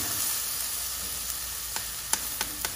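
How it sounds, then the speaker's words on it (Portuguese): Onion and garlic frying in a pan, giving a steady close sizzle with a few soft clicks and stirring taps near the end, with no talking. "Depois que a gente fritar bem essa cebola e o alho, já podemos acrescentar aqui a ervilha em lascas."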